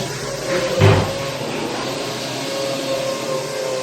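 Cabinet drawer in a newly built-in cabinet with doors still missing, opened and closed once, giving a single near wooden slide-and-bump followed by a steady background hum.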